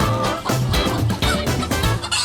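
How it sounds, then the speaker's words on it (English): A chicken clucks repeatedly up close, short choppy calls in an uneven rhythm, fairly loud with no talking. "This chicken here is making some rather funny noises."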